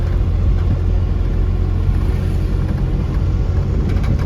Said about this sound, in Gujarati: વાડીએ ભાઈ જાય હો ટ્રેક્ટર લઈને.